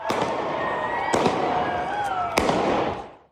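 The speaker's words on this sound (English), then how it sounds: "He fired several shots." Gunfire at a large downtown protest with thousands of demonstrators: two sharp, loud bangs about a second apart ring out over steady crowd noise and voices.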